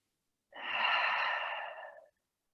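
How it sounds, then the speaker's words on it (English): A single slow, soft breath during a yoga pose, one long airy exhale of about a second and a half, close and alone in otherwise silent surroundings. "Just take a couple more breaths."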